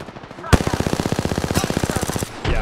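A new gun in Apex Legends fires a rapid automatic burst of about twenty evenly spaced, close and loud shots lasting close to two seconds, followed by a brief rattle after the burst.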